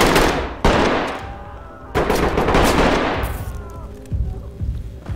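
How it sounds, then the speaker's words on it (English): Loud bursts of gunfire echo repeatedly, with sharp booming shots and rattling volleys overlapping at close range. "I hear lots of shooting"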